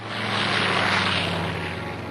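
Propeller-driven WWII fighter planes on a morning patrol make a steady, loud engine drone with a low rumble, holding through the whole stretch without any voices.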